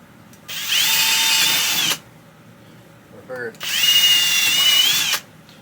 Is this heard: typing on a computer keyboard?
no